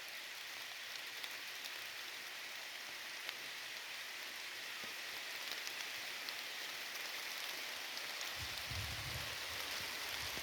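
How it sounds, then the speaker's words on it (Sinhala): Soft, steady rain pattering on cassava plants outdoors, a continuous even hiss with scattered drops, no voices. "ඔන්න දැන් වහිනවා."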